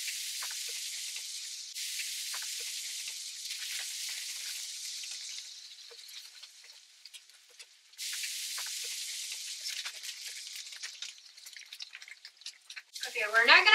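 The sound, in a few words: bacon frying in a pan on the stove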